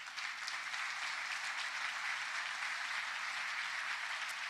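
Church congregation applauding, a steady even wash of many hands clapping at moderate distance, sustained throughout without pause.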